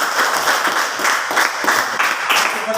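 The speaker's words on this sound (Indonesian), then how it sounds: "tepuk tangan untuk kelompok 4" Classroom applause for a student group, many hands clapping together loudly and continuously for about three seconds, close and bright.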